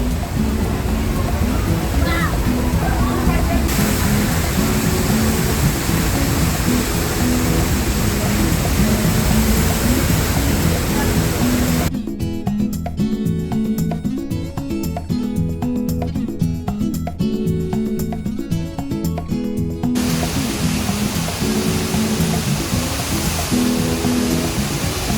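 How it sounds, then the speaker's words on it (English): Niagara Falls roars as a loud, steady wash of broadband water noise heard from a tunnel beneath the falls in Ontario, continuous throughout, with the sound turning duller and more muffled for a stretch midway. "So I'm under Niagara Falls, in a tunnel, somewhere in Ontario."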